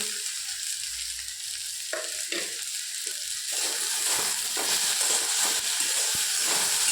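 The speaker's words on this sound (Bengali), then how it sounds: "এবার লবণ, হলুদ, লঙ্কা গুঁড়োটা দিয়ে দেবো এর মধ্যে।" Taro with salt, turmeric and chili powder sizzles in a hot pan, a steady hiss that swells as the mix is stirred, with scraping stir noises near the start and no talk.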